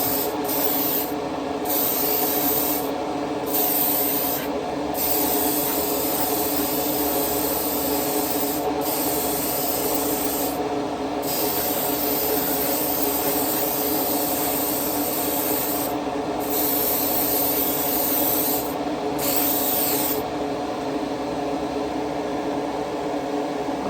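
Spray gun applying the final coat of paint to a 1939 Chevy panel truck, a steady loud hiss running continuously throughout with brief gaps in the sharp top end, no talk.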